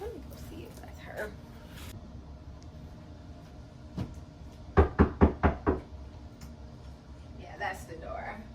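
A quick series of five loud, close knocks on a door, evenly spaced, with a single earlier knock and talking in the background.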